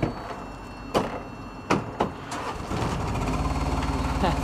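A Thermo King APU on a truck starts by itself: a few clunks and clicks come first, then the small engine catches and settles into a steady, moderate drone.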